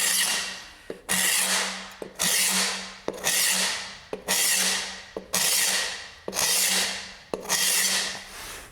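A hand scraper is drawn across a hardwood floor in a distressing job, producing eight loud, rasping strokes in a steady rhythm, each starting with a sharp catch and fading as the blade drags along the wood.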